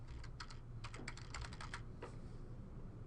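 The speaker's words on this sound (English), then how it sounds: "in the Find tab, you just type in the search term that you're looking for" Quick bursts of keystrokes on a computer keyboard, typing a search term in a quiet room, with rapid light clicks clustered in a short run and then a couple of isolated taps.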